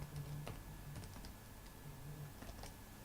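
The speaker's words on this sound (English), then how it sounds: "write console dot readline" Typing on a computer keyboard while writing code, a scattering of soft key clicks at close range over a low hum, irregular and fairly faint.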